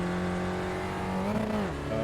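Spec Racer Ford race car in iRacing at Oran Park, its engine droning loud and steady with a shifting pitch that dips near the end, no talk.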